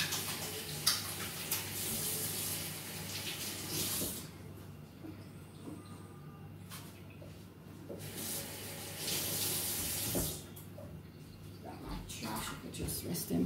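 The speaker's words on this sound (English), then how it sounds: "Let me just rinse off my hands and get the pot ready now" Water from a kitchen tap runs over hands being rinsed, a steady splashing hiss that swells and thins in bursts, close by, with no voices.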